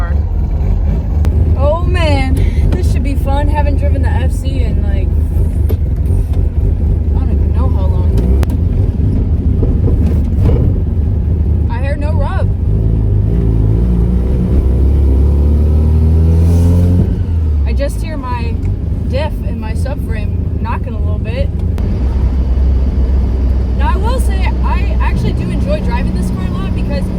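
Mazda RX7 FC engine while driving, a low droning rumble that rises and falls with revs and is steady throughout, under frequent talking from the driver.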